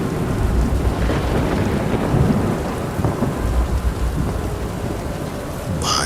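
Heavy rain pours steadily with low rolling thunder in a Hindi horror story scene, a dense continuous wash of downpour and rumble with no talking.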